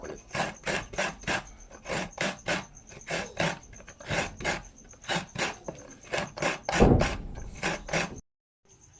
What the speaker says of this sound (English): Additional weight guys to grind the coconut.